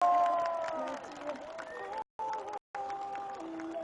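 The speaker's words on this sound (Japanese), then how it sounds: "今一度盛大な拍手をお願いいたします" A crowd applauds and cheers at the 2018 Isesaki fireworks festival in Gunma at the finale, a dense, steady wash of clapping with some tonal sound over it, briefly cutting out twice near the end.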